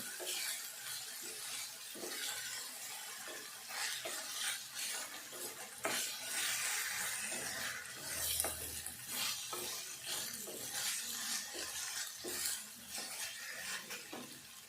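Raw lentils sizzle and fry in a pan while a spoon stirs them, a continuous close crackle with scraping strokes against the pan throughout, no talk.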